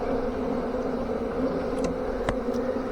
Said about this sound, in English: I got a lot of bees headed over here.